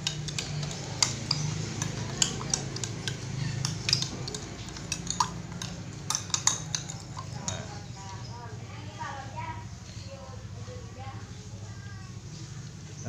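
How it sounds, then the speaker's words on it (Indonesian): A spoon clinks against a bowl while stirring a wet flour-and-water batter for fried chicken, with irregular sharp taps that fade into softer scraping, close by and with no talking. "Kita aduk."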